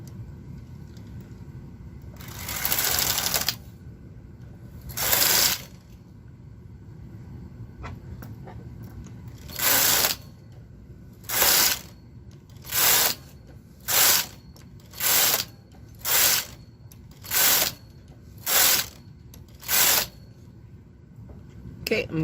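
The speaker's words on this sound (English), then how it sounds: "I'm now going to knit 12 rows." A domestic knitting machine knits rows of a bulky yoke for a toddler sweater, the carriage sweeping across in loud, evenly spaced ratcheting passes, about a dozen in a steady rhythm over a low mechanical background.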